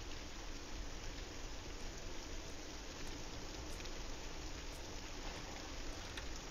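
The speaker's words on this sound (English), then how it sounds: "It's still raining." Steady, dense rain falls without letup in a pixel art horror video game, a continuous hiss close and even throughout with no talking.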